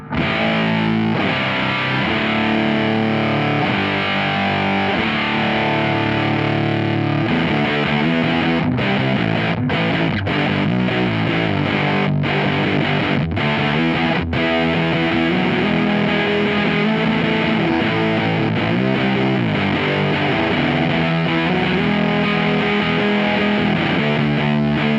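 Electric guitar through a Green Russian Big Muff-style fuzz pedal plays loud, thick, sustained chords and riffs continuously, a saturated buzzing tone with no voices.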